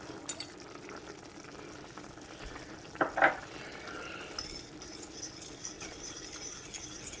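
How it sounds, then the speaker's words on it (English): Thickening slurry is poured into a pot of Korean-style beef and stirred, giving a quiet kitchen bed with a brief cluster of spoon-on-pot clinks near the middle and no talk. "give that another good stir in case anything's settled, and we're going to pour it right in"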